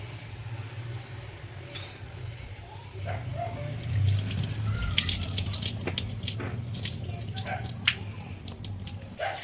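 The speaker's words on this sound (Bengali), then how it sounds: "এটাকে ভালো করে জল দিয়ে ধুয়ে নিচ্ছি" Water splashes and trickles as broken wheat (daliya) is rinsed by hand in a bowl in a home kitchen, a steady wet swishing with small drips, close and moderately quiet.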